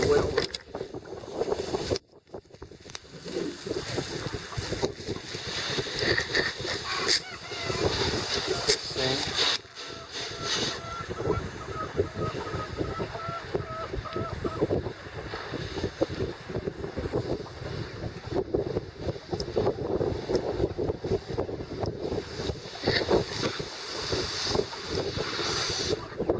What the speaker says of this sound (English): This is when the wind comes up and I can't get away over it.